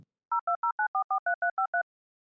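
A telephone keypad dials out as a call is placed: ten crisp, evenly spaced dual-tone beeps in quick succession, loud and clean against silence, with no voices.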